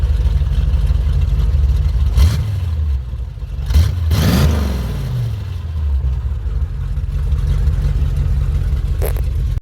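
Chevrolet S10 pickup with a swapped-in V8 engine idling loudly up close, with a few sharp revs that rise and fall back to a rumbling idle.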